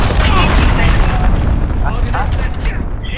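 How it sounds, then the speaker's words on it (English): Enemy cruise missile explosion in a military shooter video game, a deep rumbling boom with heavy low-end roar that stays dense and loud throughout, mixed with faint game chatter. "Enemy cruise missile, take cover."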